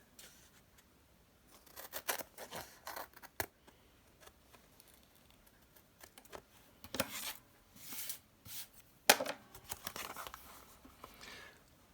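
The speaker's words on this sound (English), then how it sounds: "I'm going to trim off all this excess" Scissors trim away excess fabric on a sewing pocket project, a series of uneven snips and rustles coming in bursts, close up, with no talking.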